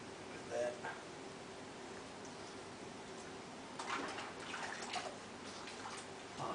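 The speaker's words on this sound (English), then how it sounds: "I'm actually going to wash all that soap off my hands." Running water rinsing soap off hands after a head shave, a soft steady wash with brief splashy bursts, fairly faint and close.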